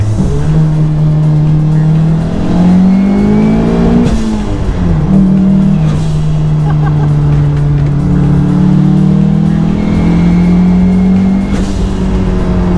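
A built 3S-GTE turbocharged SW20 Toyota MR2 engine pulls hard and steadily, its pitch climbing and dropping through gear changes in a loud, continuous drone from inside the car.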